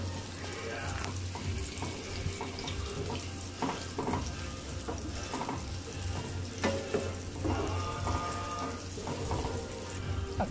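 Onions fry in a pan of oil left from frying fish, a steady close sizzle with occasional stirring scrapes and clinks; no voices are heard.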